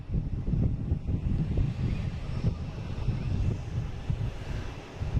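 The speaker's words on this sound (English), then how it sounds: "And we have Bermuda Air coming in." A Bermuda Air airliner coming in to land over Pleasure Bay produces a continuous low, rumbling engine roar with some wind buffeting. It stays fairly even in level and has no talk over it.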